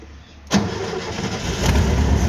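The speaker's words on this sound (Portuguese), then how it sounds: "Era bateria e combustível que faltava nele. Olha só. É, ele pegou no primeiro, mas apagou." A Gurgel car engine cranks and catches at about half a second, then runs roughly at a rumbling idle, close and loud, with no talk over it.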